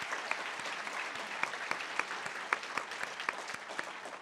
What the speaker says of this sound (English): How about one more round of applause for Professors Johnson and Abdulati?